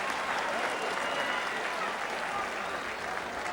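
A stadium crowd applauds Tommy Lennon at the 1988 Connacht Gaelic football final, Mayo versus Roscommon. The clapping is dense, steady and distant, filling the whole stretch at an even level.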